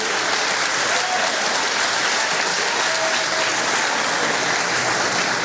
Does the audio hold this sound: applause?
yes